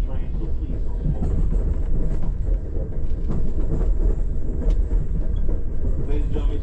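An Amtrak passenger train rolls along after a tornado delay, a steady low rumble and rattle of the rail car filling the clip at close range, with faint background voices mixed in.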